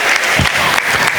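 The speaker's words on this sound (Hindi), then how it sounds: "एक बार उनके लिए एक बार जोरदार ताली हो जाए।" Loud, dense applause from an audience at an inter-school dance competition, cheering child dancers, filling the short burst without pause.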